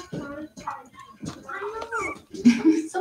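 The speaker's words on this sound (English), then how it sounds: "Silly puppies." Cavalier King Charles Spaniel puppies, a tricolor among them, whimper and yip playfully indoors in short high whines and squeaks, close by, with people talking over them.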